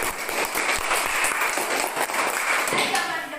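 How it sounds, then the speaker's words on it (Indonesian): Classmates in a classroom break into steady, continuous applause lasting a few seconds, many hands clapping together at close range with faint voices mixed in. "Berikan aplaus untuk teman."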